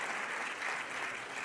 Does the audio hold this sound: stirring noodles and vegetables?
no